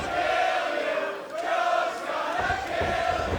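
A wrestling crowd at an AEW event roars in support of Samoa Joe during his match with Blake Christian, a loud sustained cheer that swells, dips briefly and rises again.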